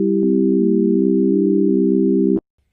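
A Native Instruments FM8 synthesizer holds a steady chord of pure, sine-like tones with one middle note bending down and back up, sustaining loud for over two seconds before cutting off abruptly, with no talk.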